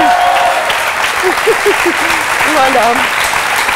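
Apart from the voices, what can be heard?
audience applauding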